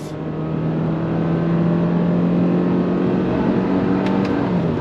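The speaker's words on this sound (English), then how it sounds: "So just to give you an idea how it accelerates" A 2022 Subaru Forester Wilderness compact SUV pulls away from a stop, its engine droning in a steady low hum that rises gently as it accelerates, heard from inside the cabin with no talking.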